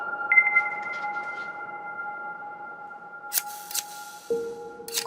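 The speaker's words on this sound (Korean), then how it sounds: "거실에서 또 가위 소리가 들리는 겁니다" A few sharp scissor snips cut through a quiet indoor room, two quick ones close together and another moments later, over a steady electronic humming tone.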